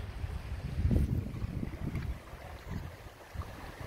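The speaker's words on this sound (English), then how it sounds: "So we've got the water just free flowing down. This is the River Sheaf in Sheffield" River Sheaf in Sheffield flowing freely over rocks, a steady broadband rush of water close to the microphone, with gusty wind buffeting throughout and no voices.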